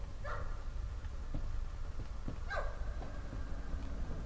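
Dog barks and yips from the horror game Layers of Fear, two short bright bursts near the start and middle over a steady low rumble of game ambience.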